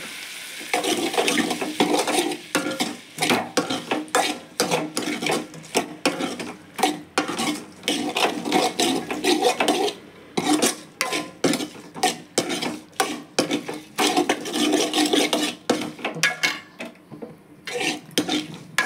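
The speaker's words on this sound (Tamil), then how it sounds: "தக்காளியை போட்டு நல்லா வதக்கிடுவோம்" Tomatoes are sautéed with onions in a pan and stirred, with repeated sharp scraping and clanking of a utensil against the metal pan in quick irregular bursts, close and fairly loud, with no voices over it.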